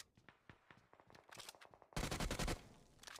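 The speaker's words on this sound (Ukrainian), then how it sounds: "хтось стріляє" Gunfire rattles in the mobile battle royale game PUBG Mobile, spaced single shots giving way to a louder automatic burst, then fading back to scattered shots at a moderate distance.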